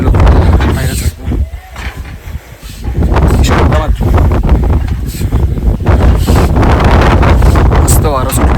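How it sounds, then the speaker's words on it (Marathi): Strong night wind on a mountain during the Kalsubai trek, roaring and buffeting the microphone in loud, continuous gusts for the whole stretch, dipping briefly before surging again. "मस्त वारा सुटला."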